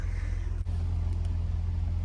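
A Lexus IS300 drift car's engine idles with a steady low rumble, close by, holding an even drone throughout with no revving.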